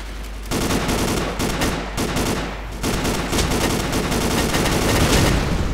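Sustained gunfire from shooting in the voxel shooter Ace of Spades, a dense rapid rattle of shots running almost without a break after a short quiet opening, loud and close.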